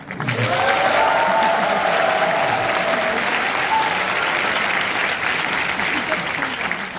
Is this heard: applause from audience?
yes